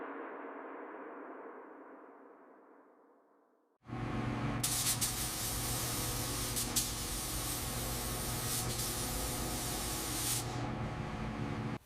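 A spray gun lays red paint on the body of a 1955 Chevrolet Tri-Five, a sudden loud, close, steady hiss that follows a fading low hum and keeps up for several seconds.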